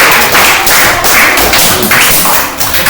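A classroom group claps loudly and close by in uneven bursts of tapping and thumping hands, fading slightly toward the end.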